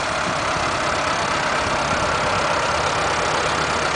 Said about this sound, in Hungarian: nagyon szépen, csendesen ketyeg ez a kis Suzuki motor az autóban